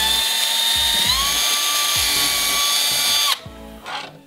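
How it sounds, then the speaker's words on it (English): A power drill whines steadily at high speed boring through a plastic Fisher-Price pizza toy, pitch dipping slightly as it bites, then cuts off abruptly and spins down. "Using the appropriate size bit for your wire, we're just gonna drill a hole"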